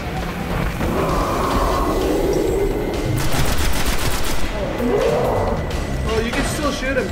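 Rapid gunfire from the video game Destiny as players shoot at an ogre, bursts of loud automatic shots especially in the middle, mixed with game effects and talking voices.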